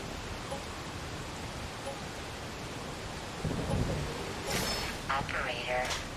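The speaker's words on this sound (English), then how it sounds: "That's rain." Steady hissing rain falls in a stormy game world, The Solus Project played in VR. A broad, even wash of noise continues throughout, with a voice speaking over it toward the end.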